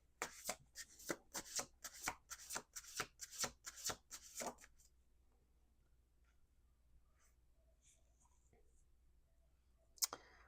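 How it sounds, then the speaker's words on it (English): Tarot cards are shuffled in a quick run of about a dozen crisp riffling bursts, close and clear, followed by near silence and one sharp tap. "Let's do 2 more shuffles."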